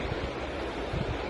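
Two cups of water pour into a pan as a continuous, fairly loud rush of splashing that stays close and steady from start to finish.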